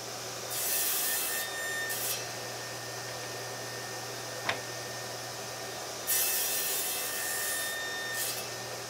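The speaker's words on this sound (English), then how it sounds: "the first thing to do is to cut it into blocks that are the correct size." Walnut wood being sawn into blocks in a workshop: two bursts of rasping, rubbing cuts separated by a steady quieter background hum, with a single sharp click midway.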